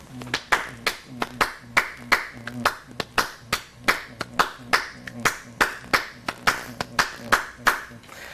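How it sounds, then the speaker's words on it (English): A musician claps out a syncopated rhythm by hand, sharp close claps in an irregular repeating pattern, loud and clear, alone for most of the passage. "Can you clap that rhythm out for us?"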